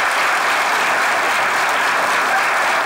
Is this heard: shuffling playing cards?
no